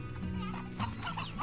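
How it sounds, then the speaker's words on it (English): Chickens in the Slime Rancher video game cluck and chatter steadily, several birds overlapping in a busy, continuous farmyard murmur with no talk. "I got a good amount of chickens going on."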